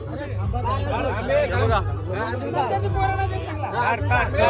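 A noisy crowd of boys chattering and shouting at a village fair, a dense, steady babble of many overlapping young voices close by, continuing throughout.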